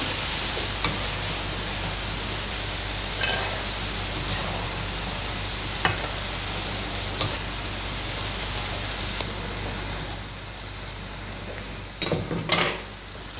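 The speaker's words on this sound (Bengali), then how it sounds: "আমাদের আলুগুলো বেশ ভাজা ভাজা হয়ে এসছে" Potatoes fry in oil in a pan while a pulao is being made, a steady hissing sizzle throughout with a few isolated clicks and a short burst of clattering near the end.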